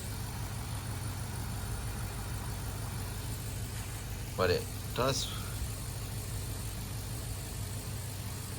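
A 7.3 Godzilla Ford Super Duty engine with a wobbling upper pulley idles at close range, giving a steady low rumbling hum throughout while someone speaks briefly midway.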